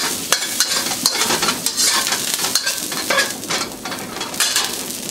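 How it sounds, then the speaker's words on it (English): Chopped ginger and garlic sizzle and crackle in hot oil in a wok while a utensil scrapes and stirs in quick, repeated strokes, loud and close. "I'm going to put 2 tablespoons of chopped ginger and garlic. Give that a quick stir fry."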